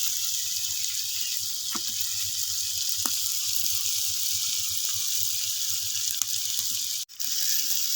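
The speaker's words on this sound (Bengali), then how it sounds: "এখন আরও কতক্ষণ ভেজে নেব।" Fish fry in oil in a pan with a constant close sizzling hiss and a few faint knocks, ending in a short clunk.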